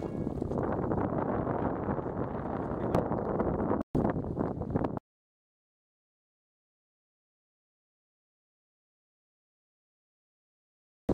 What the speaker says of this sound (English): the wind's kicked up. We're getting 22 mile an hour gusts.